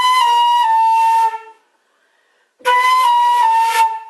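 A flute plays long, bright, breathy notes on a flat A, each sustained until the player's breath runs out, loud and close, with a clear pause between them.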